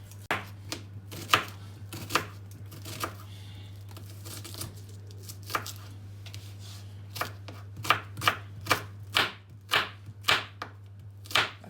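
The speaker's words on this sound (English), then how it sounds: "So I'm gonna chop some onion and add to it." An onion is chopped on a cutting board with a knife, giving sharp, close chops in uneven bursts that turn into a quicker, steady run near the end, over a low steady hum and no talk.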